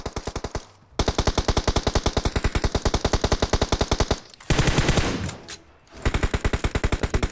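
Video game gunfire in long rapid automatic bursts, loud and close, a regular fast rhythm of shots broken by short gaps and a couple of heavier single blasts.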